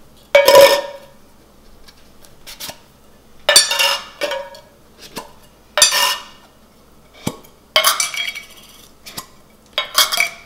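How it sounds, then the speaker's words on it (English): Small metal candle tins flipped over and their lids pried off, a series of close tinny clinks, clatters and scrapes at irregular intervals, with quiet gaps between them. "go ahead and flip all those back over and take the lids off"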